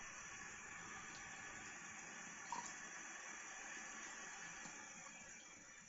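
Steady water running from a bathroom tap during a lavender soap wet shave, a continuous even hiss with a brief splash in the middle, no voices.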